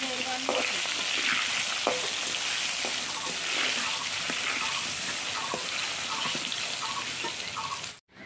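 Potatoes fry in a pan with a steady, close sizzle, punctuated by scattered scraping knocks of a spatula being stirred, running continuously before cutting off abruptly.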